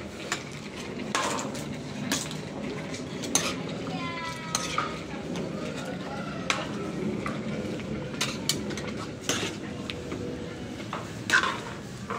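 Chicken afritada being stirred in a pan, with repeated metal utensil scrapes and clinks against the cookware over a steady background sizzle, fairly close and continuous throughout.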